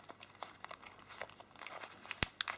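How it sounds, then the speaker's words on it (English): Origami paper for a spinning top model is folded at its small corners, making soft close crinkles and rustles, with a couple of sharper creasing snaps near the end. "take these small corners, fold them over along the edge, and then fold them behind"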